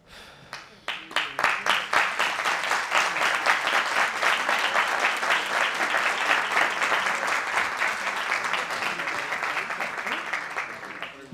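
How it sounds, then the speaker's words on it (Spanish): Sustained audience applause after a talk, many hands clapping densely and steadily, starting with a few claps and then filling the room for over ten seconds. "Muchas gracias por esos aplausos,"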